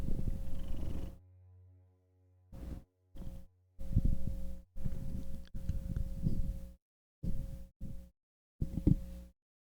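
A pet cat purrs close to the microphone in repeated rumbling bursts separated by short silences, low and steady within each stretch.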